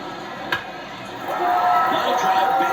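Stadium crowd in the MLB The Show 24 game during a Yankees versus Blue Jays matchup, a steady murmur that swells into a louder, sustained roar after a sharp knock, with a voice talking at times.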